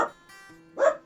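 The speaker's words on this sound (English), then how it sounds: "That's our dog giving his opinion on the movie too" A dog nearby lets out a short bark, then a brief pause and a second louder bark or yelp.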